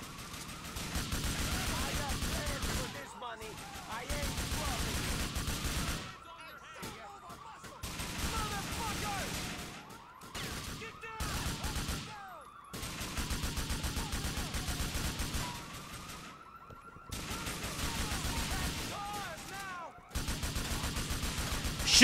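Heavy gunfire during a heist in GTA IV, with repeated bursts of automatic shots and fusillades coming in loud waves, broken by brief quiet gaps, with game sirens and people talking over the shooting.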